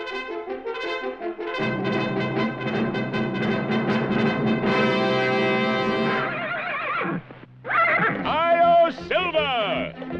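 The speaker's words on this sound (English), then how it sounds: "A fiery horse with the speed of light, a cloud of dust, and a hearty Hi-Yo Silver, the Lone Ranger." Silver, the Lone Ranger's fiery horse in an animated western, neighs loudly with a long shrill whinny over a swelling orchestral fanfare, followed by a second rising whinny near the end.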